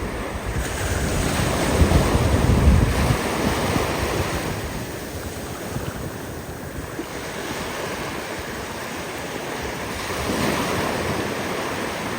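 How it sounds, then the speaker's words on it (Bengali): Ocean surf rolls in steadily on a beach beyond a casuarina forest, with a broad, continuous roar of breaking waves, mixed with gusty wind buffeting the microphone. "সামনেই রয়েছে দিগন্ত বিস্তৃত সমুদ্র"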